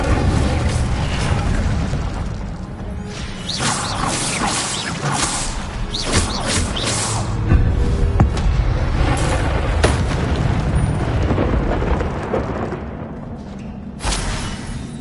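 An Incendio fire spell in a Hogwarts game erupts in a sustained roaring whoosh of flame with booming bursts and crackling pops, loud and dense throughout, briefly dipping near the end.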